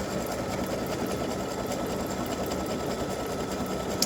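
An embroidery sewing machine stitching a bow design straight onto a T-shirt side seam, running as a steady, fast, even mechanical whir and needle clatter throughout, close and alone.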